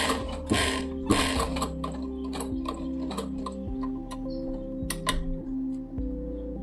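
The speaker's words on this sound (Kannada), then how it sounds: "ಫುಲ್ ರೌಂಡಲ್ಲಿ ಸ್ಟಿಚ್ ಮಾಡ್ಕೊತ ಹೋಗ್ಬೇಕು" A sewing machine stitches a pocket onto a child's pants, giving a close motor whine with rhythmic mechanical clatter in short runs that start and stop, with no talking.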